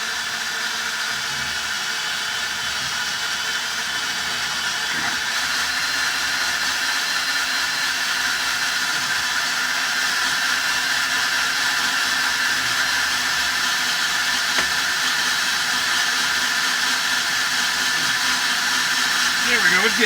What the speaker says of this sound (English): This drill don't sound too happy.